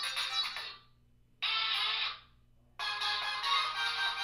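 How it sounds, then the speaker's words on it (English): Preloaded ringtones on an m360 phone play in short bright electronic bursts, three separate snippets with brief silent gaps between them as the tones are scrolled through. "you'll hear the different ringtones."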